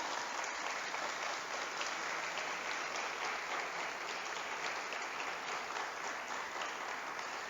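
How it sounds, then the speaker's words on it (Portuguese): A church congregation applauds during a Portuguese-language sermon, with dense, steady clapping from many hands that holds evenly for several seconds without a break. "Você pode aplaudir a Jesus por isso?"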